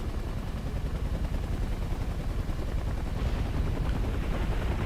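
Rockets firing in the video game War Thunder, a constant loud rumbling barrage of rapid blasts and engine roar that continues throughout, heavy and close with no talking.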